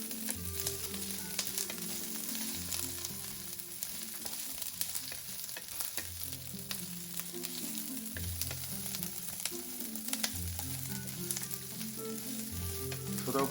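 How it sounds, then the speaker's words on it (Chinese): Potato chunks stir-frying in a hot wok, with a steady close sizzle and repeated scraping and tossing strokes of the spatula at an even rhythm, and no voices. "加入土豆块翻炒。"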